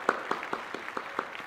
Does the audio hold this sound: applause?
yes